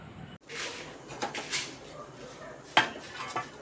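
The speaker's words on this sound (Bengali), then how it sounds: "তো কড়াই বসিয়ে দিয়েছি" A metal kadai set down on a home kitchen stove, a sharp clank with a brief metallic ring amid light pot-and-utensil clatter, close and moderately loud.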